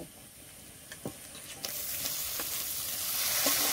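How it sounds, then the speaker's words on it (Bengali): Lote fish dropped into hot spiced oil for a Bengali fish curry, the quiet sizzle swelling into a louder, steady frying hiss with a few small pops and clicks. "মশলা থেকে তেল ছেড়ে দিয়েছে, এবার মাছগুলো দিয়ে দেব।"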